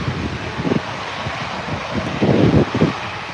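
An EasyJet airliner departs Birmingham Airport with a steady, distant engine roar, swelling slightly near the end, heard alone outdoors.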